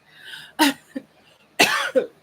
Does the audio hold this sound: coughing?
yes